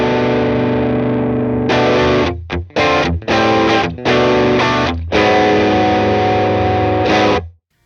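Overdriven, Tube Screamer-style distortion from a virtual pedalboard on a MOD Dwarf, a loud sustained guitar tone that starts thin, then thickens into choppy distorted chords with brief gaps before ringing out and cutting off.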